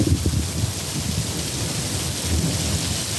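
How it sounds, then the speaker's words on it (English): A severe late-night thunderstorm sends down a dense, steady downpour while deep thunder rolls through it, loud and unbroken, with no one speaking. "I think this is a severe storm right here."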